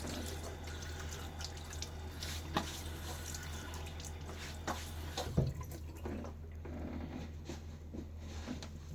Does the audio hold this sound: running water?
yes